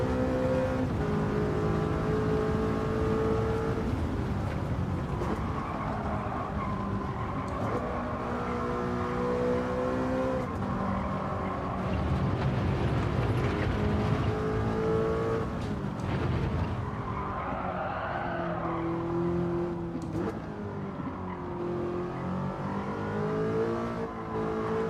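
An Audi road car in the iRacing simulator, its engine droning and revving continuously through upshifts and downshifts, with rising and falling pitch under braking and cornering and no talking over it.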